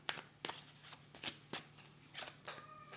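Tarot cards handled and laid out on a table during a reading, with several soft, separate slaps and swishes of cards set down one after another, quiet and close.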